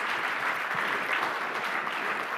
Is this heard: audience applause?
yes